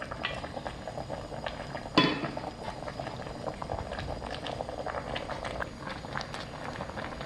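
Flounder and radish bubble and simmer steadily in a seasoning sauce in a pot, with a soft clink of a utensil against the pan early on, close and quiet.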